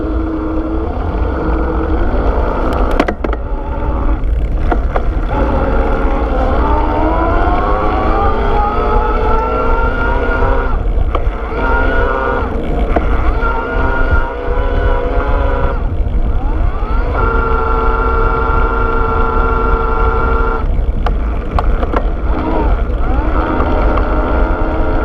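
An Electric Bike Outfitters Mountaineer mid-drive e-bike motor under throttle in turbo assist produces a loud, continuous whine that climbs in pitch, levels off and climbs again as the bike speeds up, over steady wind and rolling noise.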